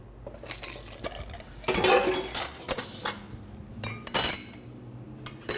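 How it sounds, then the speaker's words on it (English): Chilled lemon and sugar are poured into a Collins glass holding big chunks of ice, with a run of close glassy clinks and knocks as the ice shifts and rattles. "Your lemon and sugar, nicely chilled, into your Collins glass."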